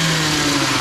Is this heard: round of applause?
no